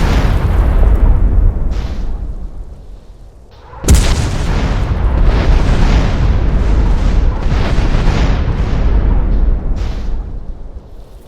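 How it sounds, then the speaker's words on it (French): A loud explosion used as a sound effect: a sharp, deep boom bursts out partway through over an already rumbling, turbulent background, then trails off into heavy roaring. "L'explosion a fait diversion, permettant à Soral d'éviter une mort certaine."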